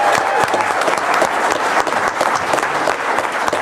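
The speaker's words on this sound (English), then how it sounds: "I think that's worth a big round of applause" A meeting audience gives a loud, close round of applause for a retiring county employee honored for 35 years of service, continuous hand claps with sharp individual hits standing out.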